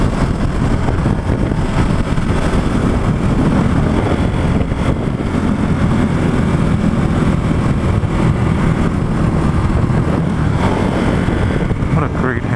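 A Ducati Hypermotard motorcycle engine drones steadily at freeway speed, around 76 to 80 mph near Concord, California, mixed with loud, constant wind rush throughout.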